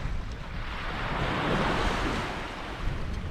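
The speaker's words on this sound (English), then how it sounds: "Hey, look at, I've got the sea coming in." Sea waves wash in along the Humber shore during a cod-fishing outing, a continuous soft rushing swell with wind buffeting the microphone, with no talking.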